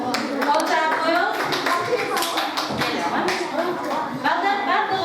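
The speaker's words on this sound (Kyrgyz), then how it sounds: "Кол чаап коёбуз." Children clap together in a classroom during an open lesson, a steady run of many quick hand claps that carries on under a teacher's voice and some children's chatter.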